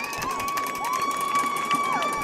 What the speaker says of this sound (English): Crowd comes alive here on the Star City side.